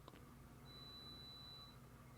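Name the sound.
beeping of a bread maker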